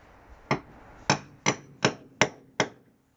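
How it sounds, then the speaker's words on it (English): Six sharp, evenly spaced hammer whacks strike an eyelet being set into a Ford Transit Custom van during a campervan conversion, close and crisp with brief gaps and no talking. "Give it a bit of a whack with a hammer."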